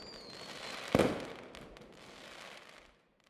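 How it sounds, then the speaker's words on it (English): Fireworks burst over New York Harbor, one sharp loud crack followed by a fading crackling tail and a long rumbling decay. "with fireworks exploding overhead"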